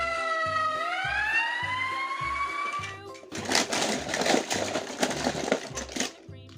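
A toy fire rescue truck siren wails with a rising electronic tone, then gives way to a burst of crackly, clattering noise over a steady pulsing beat.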